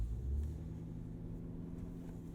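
A Cadillac Escalade V SUV idles and creeps forward after being put in drive, giving a low, steady engine rumble with a faint hum, close and quiet from inside the cabin.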